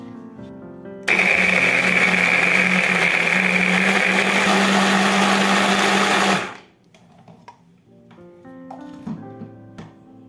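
A blender roars loudly and steadily for about five seconds as it purées vegetables into a smooth paste, then cuts off, leaving faint kitchen clatter and a voice speaking under soft background music.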